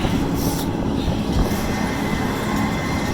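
Steady, loud rumble of a freight train rolling along rails, heard from aboard, with continuous low-frequency roar and faint metallic clatter from the wheels, no voices.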